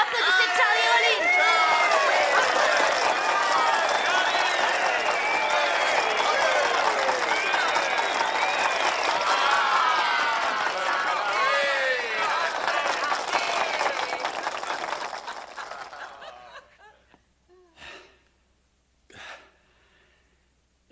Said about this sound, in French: Applaudissez plus fort. Faites-lui une belle ovation.